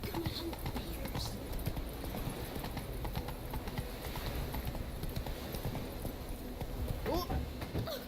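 Horse hooves clip-clop steadily at a riding pace in a video game, a continuous rhythmic trot with an occasional whinny and a voice speaking over it.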